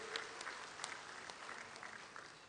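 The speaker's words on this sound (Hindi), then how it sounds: "दोनों हाथ ऊपर उठा के ताली बजा के उनका स्वागत कीजिए" Rally audience claps to welcome arriving guests, a faint, distant patter of hands with scattered sharper claps running throughout.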